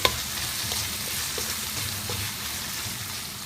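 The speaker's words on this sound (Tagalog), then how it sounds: "Kapag malambot na po ang sibuyas, pwede nyo na pong isunod ang luya. At ikisa nyo lang po ang tatlong ingredients na ilagay nyo." Onion, garlic and ginger sauté in a pan with a steady, close hiss of frying oil, broken by faint stirring clicks, and no talk throughout.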